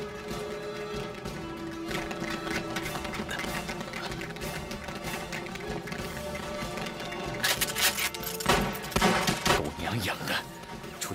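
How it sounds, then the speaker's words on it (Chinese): Gunfire rings out in a wartime kung fu film battle between Japanese troops and Eighth Route Army fighters: rapid bursts of shots over a dramatic soundtrack, growing louder and denser toward the end, with voices speaking over it. "听到枪声"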